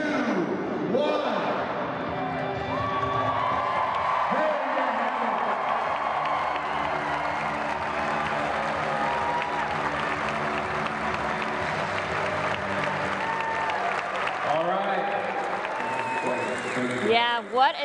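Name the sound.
crowd cheering and applauding at a basketball game ceremony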